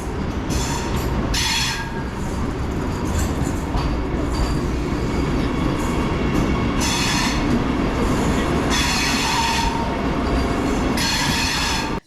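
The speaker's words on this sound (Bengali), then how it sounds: "ঠিক 10টা 10-এ ট্রেন ছেড়ে দিল" A Vande Bharat train on the Bengaluru to Mysuru line rolls through, a loud, continuous rumble with clattering wheels and repeated bursts of high metallic squeal. No voices are heard.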